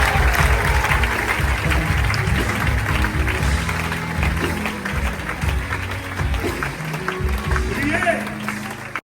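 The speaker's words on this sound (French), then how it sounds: "nous pouvons un petit peu acclamer Jésus pour la vie." Applause and cheering rise from a conference crowd in a church service setting, dense and sustained for several seconds, with a speaker's voice and background sound running underneath the clapping.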